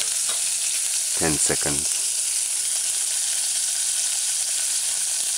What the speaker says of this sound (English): the codfish chunks on the other side and allow it to fry for